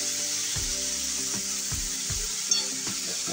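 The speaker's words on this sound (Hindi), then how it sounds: "मसाले को मैंने 2 मिनट बहुत अच्छी तरह धीमी आंच पे उलटते उलटते भून लिया है" Masala spices with arbi fry on a low flame, a steady soft sizzle broken by repeated stirring scrapes and thumps in an uneven rhythm, close and clear.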